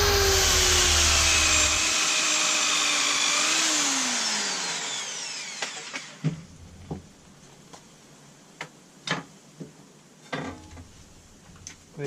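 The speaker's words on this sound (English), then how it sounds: "I'll hit it with the little lamb's wool polishing buff" A lamb's wool polishing buff spins against a stainless steel fishing teaser with a loud, high whirring that sweeps in pitch for about five seconds, then winds down, leaving scattered light clicks and taps.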